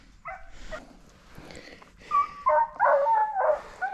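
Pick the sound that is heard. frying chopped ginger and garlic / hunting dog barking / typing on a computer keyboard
hunting dog barking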